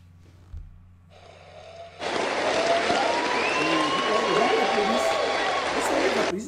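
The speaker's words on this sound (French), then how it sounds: "Mais ils applaudissent, ils pensent que c'est le spectacle." An audience breaks into broad applause that starts suddenly and holds steady, a dense wash of clapping with faint voices mixed in.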